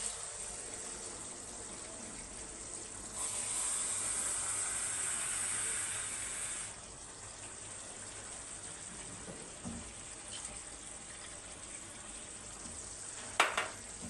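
Rice frying in oil in a cooking pot, a soft, steady sizzle with a louder hissing stretch in the middle, then quieter frying and a brief clatter near the end.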